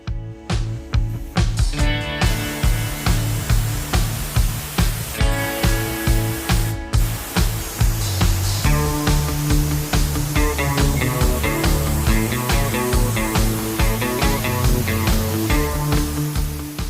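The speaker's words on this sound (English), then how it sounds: "the chassis and exposed metal were sprayed with oil to create a protective barrier" Continuous hissing spray of oil onto a Force Gurkha 4x4's underbody and chassis, up close, pulsing in a steady rhythm of short bursts under a musical backing.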